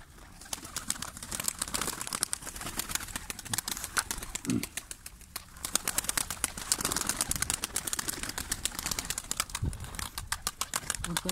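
Pigeons coo softly amid a busy outdoor ambience of chirps and fluttering, with faint voices in the background.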